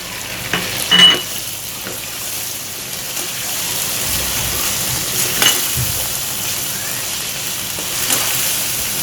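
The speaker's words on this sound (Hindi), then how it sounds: "और थोड़ा सा इसे सोते करेंगे।" Steady sizzling of garlic ginger paste frying in hot oil, with occasional stirring scrapes and small pops, close and continuous.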